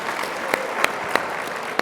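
Applause from an audience fills the clip, a dense steady patter of clapping with a few sharper claps standing out.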